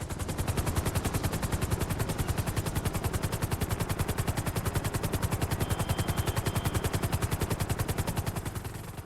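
Maverick helicopter in GTA Online, its rotor beating in a steady, rapid chop that stays loud and close throughout without letup.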